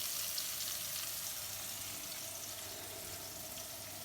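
Chopped onion and green chilli fry in hot oil in a pan, giving off a constant, dense hiss that stays even and close throughout with no other sounds.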